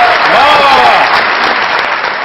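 Studio audience on a Pakistani comedy talk show breaks into loud, dense applause that fills the whole stretch at a steady level.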